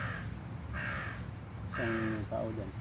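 Outdoors, a crow gives a few harsh caws, two short bursts close together near the end, over a steady background hum of traffic or wind.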